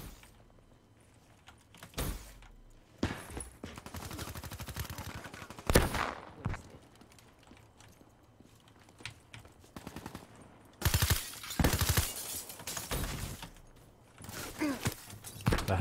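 Call of Duty: Black Ops 3 multiplayer match with bursts of automatic gunfire, some close and loud, some farther off, scattered across the stretch among other in-game clatter and effects.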